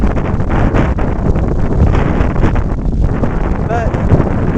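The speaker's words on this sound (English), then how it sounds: "The wind here at the moment is, it's not silly, but it's certainly taking the toll" Strong gusting wind on the Snowdon Rhyd Ddu mountain path buffets the microphone in loud, continuous roaring blasts, with a person talking through it.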